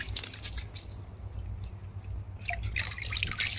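Spring water trickles and drips over hands being washed outdoors, with soft splashes and wet squishing sounds scattered over a low background rumble, close and fairly quiet.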